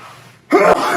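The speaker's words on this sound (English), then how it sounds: "I was sneezing" A single sharp sneeze bursts out close to the microphone after a moment of quiet, short and loud with a breathy, throaty release.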